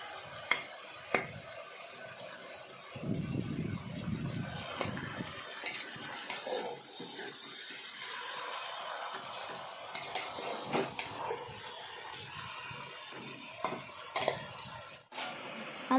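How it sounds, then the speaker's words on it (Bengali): Pork pieces with meat masala sautéed in a pan for a spicy Indian pork curry, with a steady soft sizzle, a muffled patch of low rumbling early on and scattered clinks and scrapes of a spoon against the pan. "এবার মিট মশলা দেব। মাংসটাকে ভালো করে কিছুক্ষণ কষাবো।"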